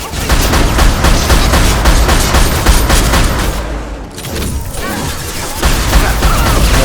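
Loud, dense gunfire from the video game Mass Effect Legendary Edition, sustained volleys of shots and impacts that ease off briefly midway before resuming at full force.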